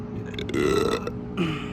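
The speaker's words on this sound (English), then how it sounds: "Yeah, I burped." A single drawn-out burp, close and loud, with a short second gulp-like belch following after a brief pause.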